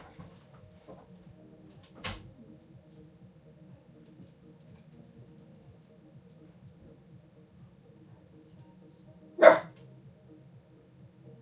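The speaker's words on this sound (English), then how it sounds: "No barking." A dog indoors gives two short barks: a faint one early on and a sharper, louder one near the end, with a quiet room hum in between.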